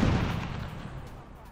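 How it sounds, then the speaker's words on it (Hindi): A large explosion at a gas station in Belgorod, Russia, heard as a loud, rumbling blast that fades over about a second and a half. "बेलगोरोद के गैस स्टेशन में हुआ है बड़ा धमाका।"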